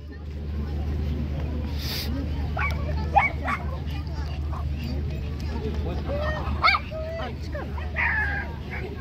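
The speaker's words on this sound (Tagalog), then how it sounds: "Mga small dogs." Small dogs at a dog playground on a cruise ship, several short yips and barks over a low engine hum, with people talking in the background.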